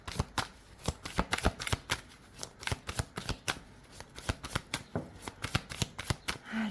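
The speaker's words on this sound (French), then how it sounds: "C'est parti, balance, on va poser les 9 cartes." Tarot cards are laid out one by one on a table, a rapid series of crisp slaps and flicks in an uneven rhythm, close and fairly quiet.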